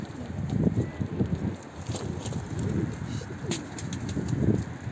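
Pigeons coo on a rooftop, a steady run of soft, low, throaty coos close by with light wind in the background and occasional faint chirps.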